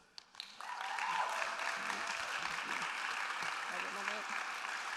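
Audience applause at a staff reading event begins suddenly and continues as a steady, fairly dense clapping from a room full of people, while voices speak over it.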